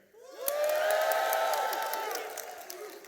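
Church congregation on Football Sunday cheering for the Chiefs, a sudden burst of shouts, whoops and clapping that swells quickly, holds loudly for a couple of seconds, then gradually fades.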